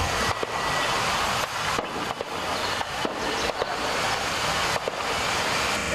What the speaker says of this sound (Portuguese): Moradores voltam no caminho e tentam se proteger do tiroteio.